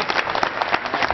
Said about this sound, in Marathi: तुम्ही मनस्वी टाळ्या वाजवत आहे